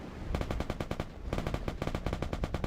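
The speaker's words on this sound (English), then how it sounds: "I'm already hearing some fire, gunshots." Rapid automatic gunfire from a video game played on a Retroid Pocket 2 handheld, two tight bursts of many evenly spaced shots, loud and close.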